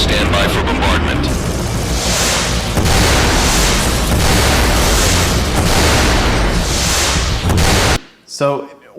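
Continuous, heavy explosions of an AI-generated bombardment, a loud roaring wall of booms and rumbling blasts lasting about eight seconds before cutting off abruptly, followed by a brief faint voice.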